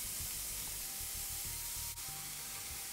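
Two onions softening in olive oil with salt in a clean pot, giving a soft, steady hiss and gentle sizzle at low level with a brief clink partway through.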